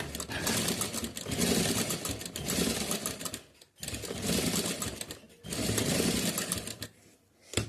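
Electric sewing machine running steadily while overlock-stitching fabric, a dense continuous whirring clatter in long bursts with brief pauses between runs, close and loud.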